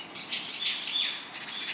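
Birdsong in Dongbaek Dongsan, a gotjawal forest on Jeju: several high chirps and short whistled calls, overlapping and fairly close, over a constant hiss of insects or forest ambience.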